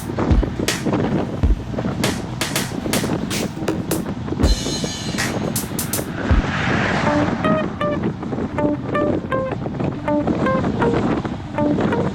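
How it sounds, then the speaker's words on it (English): Wind rushes and buffets the microphone continuously during a group bicycle ride into a headwind, with sharp clicks and a rising mechanical whine partway through. "It was very windy. We are heading into the wind."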